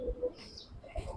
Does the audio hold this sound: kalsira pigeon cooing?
yes